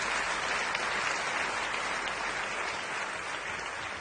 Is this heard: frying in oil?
no